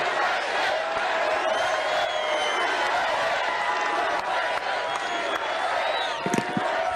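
Rally crowd clapping and cheering throughout, a dense, steady wash of applause and voices filling the space at constant loudness, with a few sharper claps near the end.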